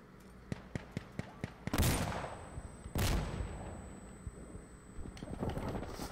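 Gunfire in the shooter game Insurgency Sandstorm with an MP7: a string of sharp, evenly spaced shots opens, then two loud, close blasts with long rumbling decay, a high ringing whine lingering afterward and distant rumble near the end.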